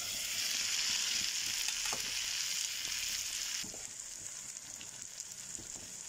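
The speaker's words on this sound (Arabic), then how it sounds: "دلوقتي هنزل بالفول بتاعنا." Fava beans frying in an oiled pan with salt, a steady bright sizzle that settles a little softer partway through, with faint scattered clicks from the pan and no voices.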